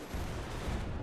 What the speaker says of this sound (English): So we blow up a bomb